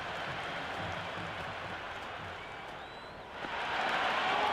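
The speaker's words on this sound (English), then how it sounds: "The spectators are absolutely buzzing right now." A cricket stadium crowd at the RCB vs GT IPL final keeps up a steady, dense roar of cheering and buzzing that swells louder near the end.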